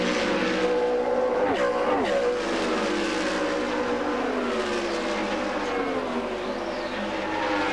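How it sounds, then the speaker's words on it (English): Indy race cars at the 1999 Indianapolis 500 scream past, their engines rising and falling in pitch as they pass, some stuttering against the rev limiter, under a broadcast commentator's voice. "you can hear that stutter step out of some of the motors. That's guys running into that rev limiter"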